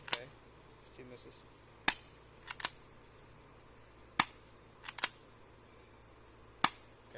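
Cyma P.698+ spring airsoft pistol firing at energy drink cans, several sharp isolated snapping shots spaced irregularly a second or more apart, close and crisp over a quiet background.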